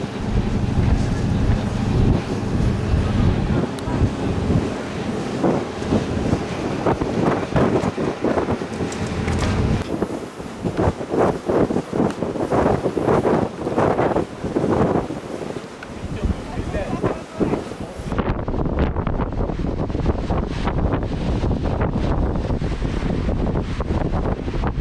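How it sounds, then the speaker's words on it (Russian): Strong wind buffets the microphone on the deck of a river cruise ship on the Yakutsk–Tiksi route, a constant loud roar with gusty bursts and water rushing beneath, all through the clip without speech. "то ветер дует и прохладно становится"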